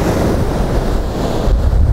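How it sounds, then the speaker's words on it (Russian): Winter storm waves crash onto the beach at Krinitsa, a loud, continuous roar of surf with heavy wind buffeting the microphone and no voices. "Посмотрите, какие волны."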